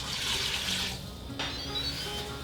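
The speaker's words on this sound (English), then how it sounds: "just gonna fill it up with water until it's covering the bones and start it." Filtered water running from a tap into a pot over chicken bones for broth, a steady splashing flow with a short pause before it resumes.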